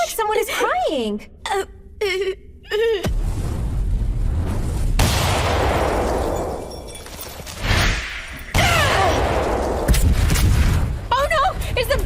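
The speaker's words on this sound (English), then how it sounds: "Is the building exploding?" Short voiced exclamations open the scene, then a building explodes in an anime, with long, loud rumbling blasts and roaring debris noise in several heavy waves.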